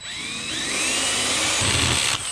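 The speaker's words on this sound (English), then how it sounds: "So we just drilled in the first hole. Let's do the next." A power drill boring a hole through a metal mounting bracket clamped in a vise, for a Toro Timemaster 30-inch mower fuel tank modification: a loud, close, steady high whine that rises slightly in pitch before cutting off.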